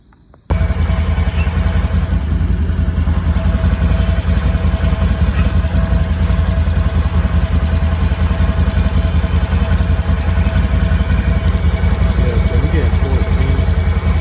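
A Can-Am Renegade XMR 1000 ATV idles steadily close by, with a continuous low rumble and a light mechanical clatter. It holds an even level throughout, with no talking over it.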